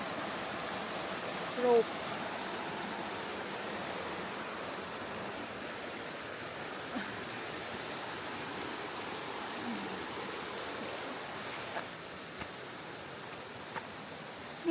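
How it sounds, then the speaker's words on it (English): Cold river water rushes in a steady, broadband roar during a rope crossing at Pagudpud, with occasional faint voices and small knocks over the constant flow. "Gonna cross the river."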